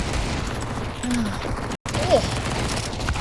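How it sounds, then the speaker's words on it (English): Desert Eagle pistol shots in a competitive Counter-Strike match on the Ancient map sound in short bursts of gunfire, under busy game noise and commentator talk. "those deagle shots not quite connecting the way that COVEN's did a little bit earlier on"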